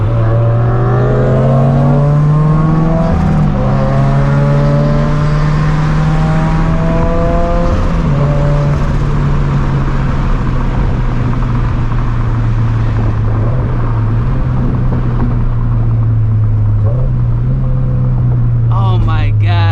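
A Greddy turbocharged Toyota FR-S accelerates hard during a street race, its engine note climbing loudly and up close, breaking at several gear changes before rising again, with a voice speaking over it.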